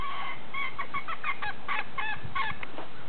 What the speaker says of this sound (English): Look at that funny little bantam over there.